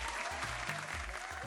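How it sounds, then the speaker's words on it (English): A round of applause during a fashion model competition episode, steady dense clapping that fills the whole moment, with low tonal music or hum underneath. "Chibi, I'm gonna give you a round of applause for that alone."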